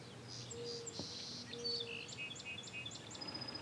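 Birds sing and chirp outdoors beside the water while someone sits in a kayak, with several short tweets and whistles scattered across a quiet, faint background of insects, no talk.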